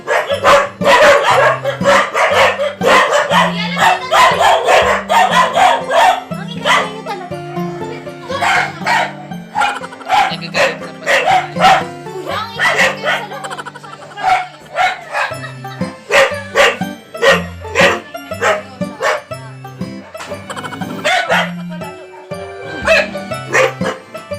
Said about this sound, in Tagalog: ito may mga aso namin. Sila lahat. Nagagalit na pa sila.